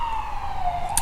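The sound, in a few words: siren passing outside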